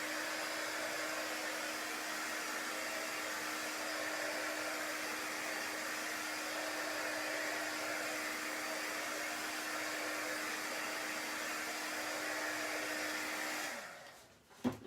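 A hair dryer blows steadily on a chalk art project for about fourteen seconds with a constant whine, then cuts off abruptly with a brief clatter at the end.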